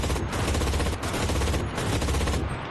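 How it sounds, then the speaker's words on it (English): Sustained automatic fire from an MG42 machine gun in the video game Enlisted, a dense, loud continuous burst with battle noise throughout. "Yeah, it's an MG42. Fully upgraded, it'll probably be pretty alright."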